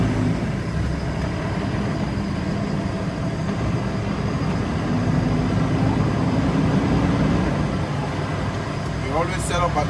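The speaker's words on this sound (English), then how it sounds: "I'm going to show you how to double clutch" A truck engine droning steadily while the driver double clutches, the low rumble shifting slightly in pitch as the gearbox is worked, with a brief higher whine near the end.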